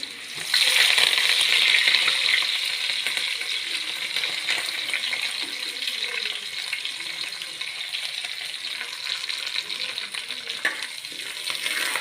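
Curry leaves and chopped shallots frying in hot oil for a fish curry, an intense sizzle flaring as the leaves go in, then easing into a continuous crackle with occasional stirring taps.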